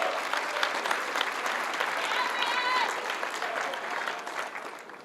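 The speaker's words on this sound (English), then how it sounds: "They're cheering for you." A large crowd at a community college graduation applauds and cheers for a student government president stepping up to speak, a broad, sustained wash of clapping with a few whistles riding on top, moderately distant and steady.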